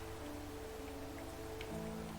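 Steady rain in the video game The Good Life: a continuous soft hiss of drops on surfaces, held at an even level across the whole stretch, with faint low tonal hum beneath and no voices.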